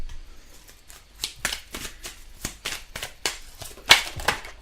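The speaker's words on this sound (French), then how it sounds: "Alors on va prendre quelques cartes de l'oracle G." Oracle cards being shuffled by hand in repeated riffling bursts, each one a crisp papery flutter, close up and fairly loud, with no talking.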